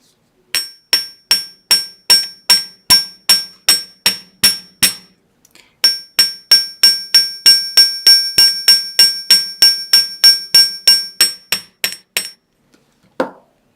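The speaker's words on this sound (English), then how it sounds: "We know how to hammer." A hammer strikes metal wire for a wire-weaving gemstone channel setting, sharp ringing metallic taps in a steady rhythm, about a dozen blows, a brief pause, then another fast run of close, loud strikes.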